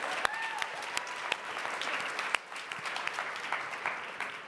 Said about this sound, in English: I just want to give them another round of applause because our panelists were so awesome